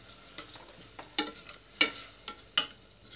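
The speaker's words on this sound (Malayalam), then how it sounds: "ഇത്തിരി ഉപ്പും കൂടെ ഒന്ന് ഇട്ടിട്ട് നമുക്കൊന്ന് വഴറ്റി കൊടുക്കാം കേട്ടോ." Onions being sautéed with a pinch of salt for a pepper beef curry: a quiet sizzle punctuated by about six sharp spoon scrapes and clinks against the pan at uneven intervals, no talking.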